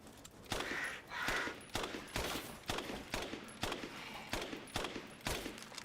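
Repeated gunshots in Resident Evil Village, a steady series of sharp, close cracks roughly every half second with short echoing tails and no talking.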